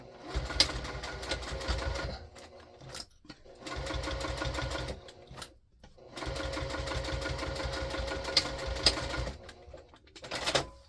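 A sewing machine stitching a fabric basket seam runs in three long, steady bursts of rapid needle chatter, close and loud, with short pauses between runs for backstitching.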